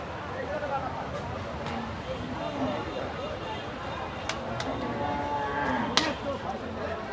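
Cattle at the Dugdugi cattle market in Chuadanga, a rural livestock fair with big cows for sale, lowing amid a dense crowd hubbub of voices and bustle that runs steadily throughout.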